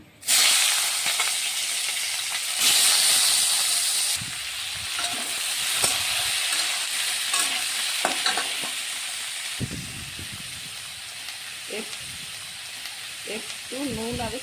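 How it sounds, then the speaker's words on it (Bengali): Jackfruit pieces fry lightly in a pan, a steady close sizzle and hiss running throughout with occasional stirring scrapes, while a voice speaks briefly near the end. "আমি এখন ইঁচড়গুলো একটু ভেজে নেব, একটু হালকা ভেজে নেব"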